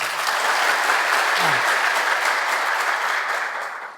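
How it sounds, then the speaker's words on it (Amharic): Audience applause fills the whole stretch, a dense steady clapping from a crowd that holds strong throughout and only eases slightly near the end, with no talk over it. "ስላሳካ አንድ ጊዜ አጨብጭቡልኝ"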